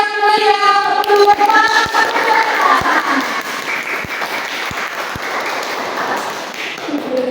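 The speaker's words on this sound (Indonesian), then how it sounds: "Berikan tepuk tangan yang meriah untuk" Audience applause at a student speaking-skills practice session in an Indonesian language education class, a steady wash of clapping with a few sharper hand taps, close and fairly loud, with a voice audible over the start.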